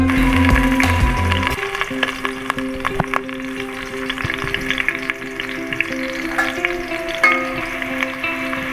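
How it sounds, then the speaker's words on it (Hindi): Roughly chopped onions fry in hot oil with a steady, close sizzle, punctuated by light clinks and scrapes of a utensil stirring, and no one speaks. "प्याज को हम ब्राउन होने तक फ्राई करेंगे।"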